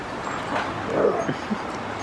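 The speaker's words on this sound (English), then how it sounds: "While the dogs wrestle in the background." Dogs wrestle and yip playfully in a room, with short whimpers and small barks scattered under quiet background chatter.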